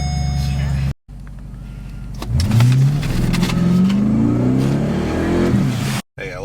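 A Chevrolet Caprice engine after a cold start on a cool morning rises into a revving, accelerating run, loud and close, with a voice speaking briefly under it.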